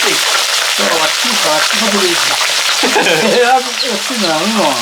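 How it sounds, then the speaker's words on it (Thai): Food fries in a pan of oil, a loud, continuous sizzle and crackle running throughout while a person talks over it. "ได้เวลาไปทอดกันแล้วเด้อ"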